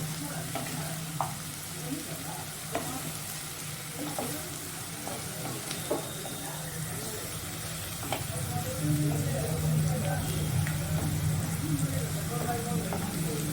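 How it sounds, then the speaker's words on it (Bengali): Onions frying in oil in a pan, a steady close sizzle with occasional stirring taps, growing a little louder toward the end; no voices. "পেঁয়াজগুলো একটু গোল্ডেন হলে তারপরে আমি আদা রসুন পেস্টটা দিয়ে দেব।"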